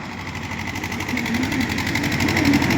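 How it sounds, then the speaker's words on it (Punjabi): A tractor engine runs under hand throttle, a steady buzzing drone that rises gradually in loudness over a few seconds, close by with no talk. "ਓਏ ਹੱਥ ਵਾਲੀ ਰੇਸ ਕਰ ਲੈ ਭਰਾਵਾ"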